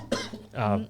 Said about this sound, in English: Well, that was a cough.